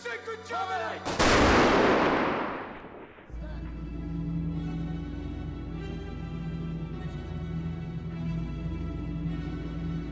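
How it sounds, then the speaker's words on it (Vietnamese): A firing squad volley cracks out in a short burst, a loud sharp blast that rings and decays over a couple of seconds, followed by a low steady rumbling background. "Obrix, Stauffenberg, Haefsten bị xử bắn ngay tại sân tòa nhà Benderblock."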